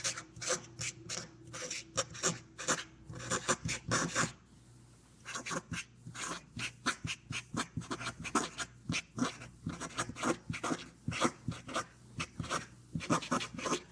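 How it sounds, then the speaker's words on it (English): Pen or pencil scratching across paper as a statement is written down by hand, a steady run of short rasping strokes close by with a brief pause partway through, no talking. "So I want to write a statement down that I've found to be true."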